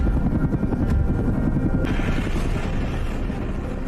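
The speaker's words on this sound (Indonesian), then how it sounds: "Terlihat helikopter yang baru tiba di kapal" A film helicopter arriving at a ship roars loud and close, its heavy rotor thump and turbine whine filling the whole stretch without any voices.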